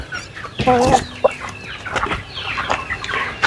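A rooster with mille fleur markings, part of a Brazilian poultry flock, gives several loud, close clucks and squawky calls in uneven bursts. A brief flutter is heard along with faint background noise.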